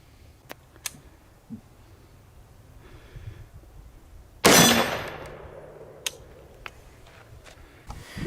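A single 5.56 rifle round fired into a Kevlar helmet at about 25 yards, one loud sharp crack with a ringing decay, set among quiet outdoor ambience with a few faint clicks and taps before and after.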